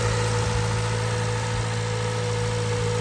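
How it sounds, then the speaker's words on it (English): A Honda K20 engine idles in a steady, smooth hum with an underlying fine clicking from the fuel injectors, heard up close and without talking. "And the injector clicking."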